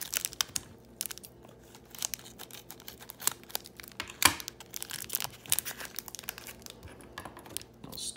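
Packing tape is peeled and torn off a mailed package of sports cards in close, crinkly bursts, rips and crackles. Sharp crunches and scrapes continue steadily throughout with no talk.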